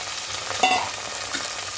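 Cooked pulses sauté briefly in a garlic tempering for a Malvani colocasia-leaf dish, a soft sizzle with one short stirring scrape near the middle, close and fairly quiet.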